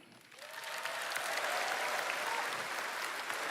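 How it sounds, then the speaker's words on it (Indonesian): Audience applause at a political rally, a steady wash of clapping from a large crowd that swells within the first second and continues evenly, fairly distant and moderate in level. "Tepuk tangannya kurang semangat."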